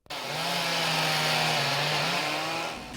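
A chainsaw cutting fallen trees after a tornado in Great Barrington roars at full throttle almost from the start, loud and close, holding steady for a few seconds before easing off at the end.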